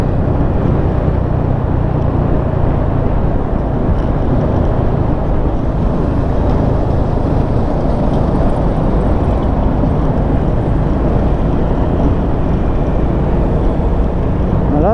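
Motorcycle riding over a rough gravel road, a constant loud rumbling roar of engine, tires and wind with steady jolting texture and no pauses.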